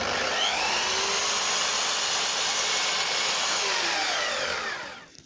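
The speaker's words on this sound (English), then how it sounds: "Right, I've sanded them." Power sanding of wooden beading for replacement cupboard doors makes a loud, steady whirring hiss from start to finish, then winds down as the sander stops.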